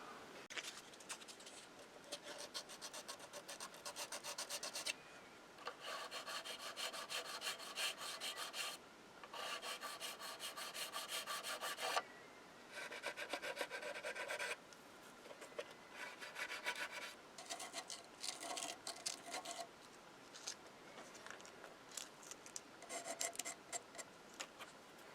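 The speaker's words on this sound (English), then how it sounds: "A little bit of light sanding in some areas" Putty on a plastic model kit of a Klingon cruiser is lightly sanded: close, steady rasping strokes in bursts separated by brief pauses, with no talking.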